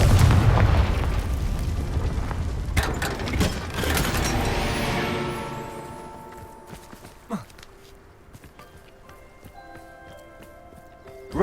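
The Confringo blasting spell bursts in Hogwarts Legacy as a loud booming explosion that rolls off into a long decaying rumble, followed by quieter mechanical clicks and a sharp crack near the end.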